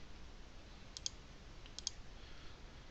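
Two pairs of faint mouse clicks on a computer, pressing a refresh button in reference-manager software, spaced under a second apart over a low steady background hiss.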